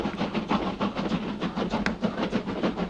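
Steady rhythmic rumble and clatter of a slow train rolling along the rails, heard from inside a carriage, continuous and moderately loud with a faint hiss throughout.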